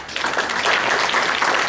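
An audience at a UFO conference lecture gives a brief round of applause, a dense patter of clapping hands that holds steady for a moment without talk.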